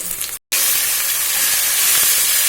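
Garlic paste added to a hot pan for a spicy Bengali-style aar fish curry gives a loud, continuous frying sizzle that cuts out for an instant, then resumes strong and steady, with no talking.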